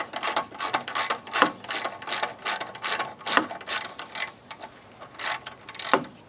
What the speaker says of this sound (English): I grab my socket wrench, my extension, and my 13 millimeter socket, and I remove the bolt